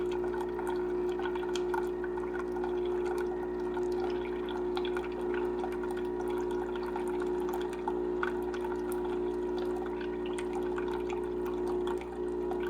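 A Starbucks Verismo espresso coffee maker hums steadily as its pump dispenses about six ounces of water, a constant mechanical drone with faint trickling and small ticks throughout.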